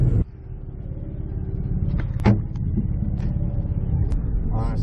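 A Chevy Uplander minivan drives on the road, giving a steady close engine drone and road rumble from inside the cabin, with a brief thump near the start and faint clicks.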